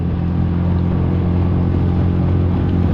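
An oversized outboard motor on a small plastic pond boat held at wide open throttle into the wind, a loud, steady, close engine roar with no letup and no voices.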